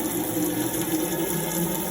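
Water runs from the hot tap of a Burstner Argos 747 motorhome, a steady close rushing and hissing flow that holds unbroken and even throughout, with no voices.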